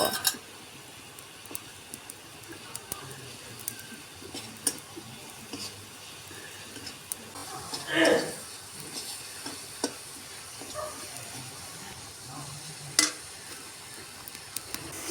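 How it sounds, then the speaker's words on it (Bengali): Chopped tomatoes tipped into spices frying in a pan for soybean curry: a steady, close sizzle runs throughout, swelling in one brief louder burst midway, with scattered light clicks and taps and no voices. "মশলাগুলো ভালোভাবে ভেজে নেওয়ার পর তাতে আমি কেটে রাখা টমেটো ঢেলে দেব"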